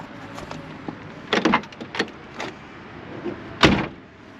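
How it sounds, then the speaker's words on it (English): The door of a 1978 Pontiac Trans Am is shut lightly, giving a couple of sharp close thuds with small clicks and rattles in between, nearby and without talk. "Let's do the door close test on this door."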